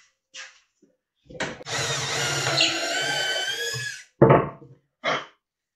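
A power drill bores a hole into wood for a mallet, with one sustained whirring run of about two and a half seconds, followed by short bursts and clatter, close and clear with no talk.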